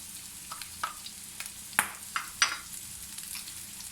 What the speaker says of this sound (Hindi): और इसको हम सारा मिक्स कर देते हैं।